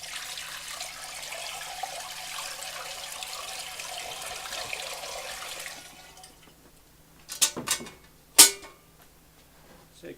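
Water pours from a bucket into an Electro Freeze B24 soft-serve machine during cleaning, a steady broadband splashing rush for about six seconds, then quieter with a few sharp sloshing clunks near the end.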